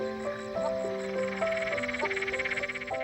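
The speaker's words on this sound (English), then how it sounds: "there's a noise around here with the frogs just, like having a party and just talking to each other" Frogs croak together at night around the recovering lower lakes near Lake Eyre in Australia, a dense, steady chorus of overlapping calls with a rhythmic pulsing texture, close and continuous with no talking.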